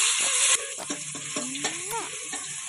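Sliced onions sizzle in hot oil and ghee for chicken biryani, with a spoon scraping and stirring through the pan in short, close strokes over a steady frying hiss.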